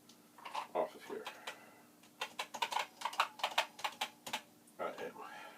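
Plastic key caps being wiggled and pried off a Commodore VIC-20 PET-style keyboard, a run of close, sharp clicks and light clacks in irregular bursts with short pauses, fairly quiet.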